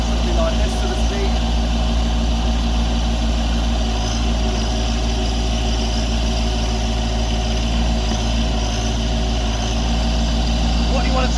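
A Branson 2500 tractor's engine drones loudly and steadily at working revs while its BH100 backhoe digs, a constant close mechanical rumble with a voice speaking over it.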